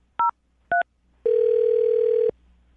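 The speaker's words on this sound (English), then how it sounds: "I'm going to dial the phone number right now" A telephone being dialed: two short electronic keypad tones, a brief pause, then a steady ringback tone lasting about a second, clean and close with no voices.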